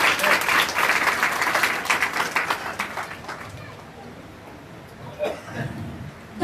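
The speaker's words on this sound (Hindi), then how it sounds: "आइए एक बार फिर उसके जलाल के लिए जोरदार तालियां बजाइए।" A church congregation at a worship service breaks into loud applause that gradually fades out, with scattered laughter and voices rising as the clapping dies down.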